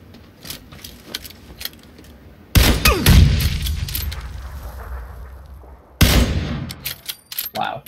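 In a Call of Duty match, a grenade explodes with a sudden loud blast that decays into rumble, followed by another sharp burst of gunfire, with scattered quieter clicks and shots between.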